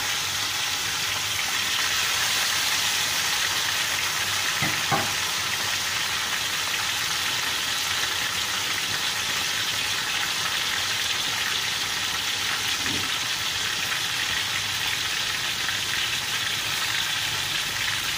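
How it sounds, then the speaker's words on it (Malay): Steady, dense hiss and sizzle of black pomfret frying in hot oil, continuous throughout with a couple of soft knocks. "saya goreng ikan dulu"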